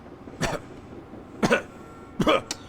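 Three separate coughs from a video game character, spaced about a second apart, harsh and close, with quiet background between them and no speech.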